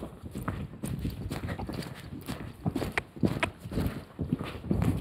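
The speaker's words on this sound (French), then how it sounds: "Ah, ça y est, on galope." A horse moving at a canter or gallop, rhythmic hoof beats and clip-clop repeating steadily throughout at moderate distance, with a faint background hum and no clear speech.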